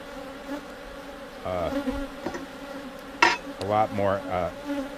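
Honeybees buzzing around an open beehive with comb honey frames, a close, wavering buzz as individual bees fly past the listener over a steady background hum.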